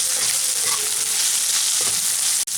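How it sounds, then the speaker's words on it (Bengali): Onion, garlic and chili fry lightly in a pan for a soybean paste, giving a steady close sizzle with faint stirring and one brief click near the end. "আর এখন এটাকে আমি ভেজে নেব, খুব কড়া করে ভাজবো না, হালকা করে ভেজে নেব।"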